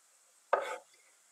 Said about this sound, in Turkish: bir avuç maydanozumuzu ufak ufak doğruyoruz